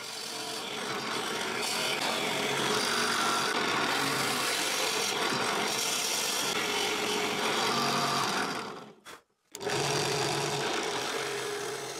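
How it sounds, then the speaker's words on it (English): A drill press with a 10mm bit bores holes along the grain of a wooden strip for a doweling jig, giving a loud, continuous grinding rasp that cuts out briefly near the end and then resumes. "I use a 10mm drill bit to drill all 3 holes in the grain"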